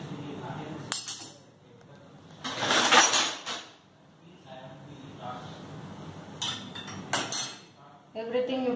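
Metal spoons clink and rattle as they are set into the cutlery basket of a Bosch SMS66GI01I dishwasher, a few short bursts of clatter close by with quiet pauses between.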